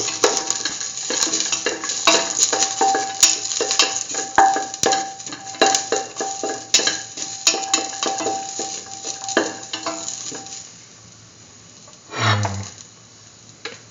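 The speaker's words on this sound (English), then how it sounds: "put the ginger and the garlic together" Ginger and garlic sizzle in a hot pan, a steady crackling fry with scattered stirring clicks and utensil scrapes for most of the stretch, easing off near the end before a brief low thump.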